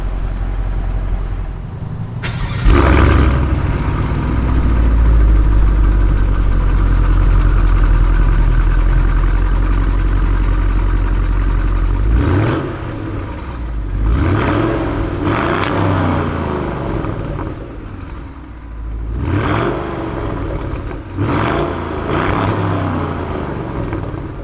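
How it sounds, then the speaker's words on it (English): A 2020 Cadillac CT6-V with the Blackwing V8 and quad exhaust outlets revs loudly once, holds a heavy low roar, then drops to idle before several sharper revs, close and strong. "the quad exhaust outlets pumping out that spectacular"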